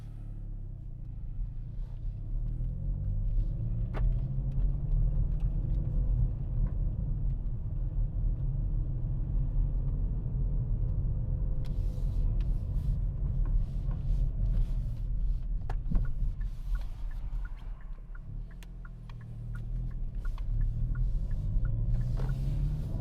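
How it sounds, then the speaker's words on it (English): Steady, close engine rumble and road drone from a Hyundai i30 Fastback N being driven, swelling at times as it accelerates, with no talking. "This time I'm joined by the Hyundai i30 Fastback N. So anyway, enough talking,"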